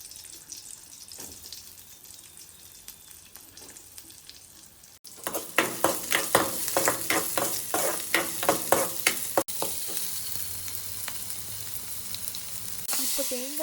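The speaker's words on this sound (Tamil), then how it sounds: "கொஞ்சம் கோகோனட் ஆயில் சேர்த்து அதில் கடுகு, வெந்தயம், உள்ளி, பச்சை மிளகாய் சேர்த்து அதோடு கட் பண்ணி வச்சுருக்க வெங்காயம் சேர்த்து வதக்குங்க." Onion, mustard seeds, fenugreek, garlic and green chilli sautéing in coconut oil, with a steady sizzle and repeated stirring scrapes that grow louder partway through, no voices.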